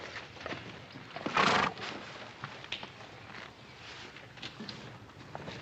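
A horse that has lost its left front shoe whinnies once in a short loud burst, then hooves clop and shuffle faintly against a steady outdoor background.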